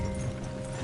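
Horse hooves clip-clop in a steady galloping rhythm in Red Dead Redemption 2, a Western video game, a short close burst with a continuous dense low rumble.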